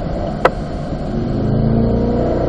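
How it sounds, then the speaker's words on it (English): A car engine on a race track during a track-day session, heard from inside, drones loudly with a sharp click as a gear change lands, then the tone holds and climbs slightly as the car pulls on. "Downshift to third gear here, Jeff."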